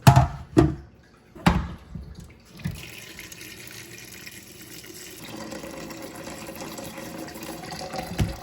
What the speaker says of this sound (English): fill it with salted water covered by 2 inches